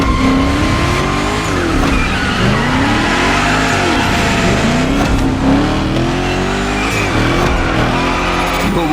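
A car slides through a gymkhana course in The Crew Motorfest, tires squealing in long wavering arcs over a steady, loud engine roar that rises and falls with each drift, with no voices.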